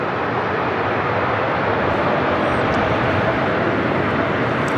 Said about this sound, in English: This is Delta Airlines 2769 coming in from Seattle on an A321neo.